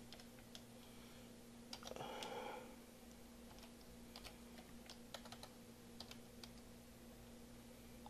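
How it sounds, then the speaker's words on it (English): Quiet typing on a computer keyboard, scattered light key clicks spread over several seconds with a brief cluster of louder taps, over a steady low hum. "I'm gonna just go ahead and type info."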